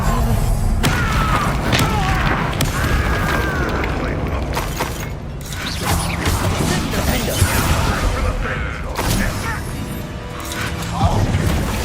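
Repeated Confringo blasting-spell explosions booming in a Hogwarts Legacy duel, heavy thuds and crashes layered over dense game combat noise, with a character's voice shouting spell names throughout.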